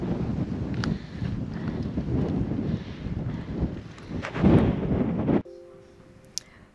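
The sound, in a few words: strong wind blowing at Rockhound State Park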